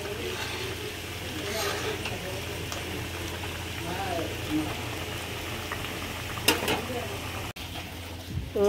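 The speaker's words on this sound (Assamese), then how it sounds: "তাৰপিছত এইখিনি ভাজিব আছে, এইখিনি ভাজি তাৰপিছত হৈ যাব আৰু" Food fries in a pan in a home kitchen, a steady bubbling sizzle running throughout with a few sharper clatters near the end, while a voice talks intermittently over it.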